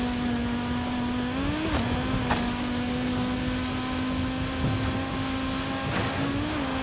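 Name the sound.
Audi Sport Quattro rally car engine in Forza Horizon 5 video game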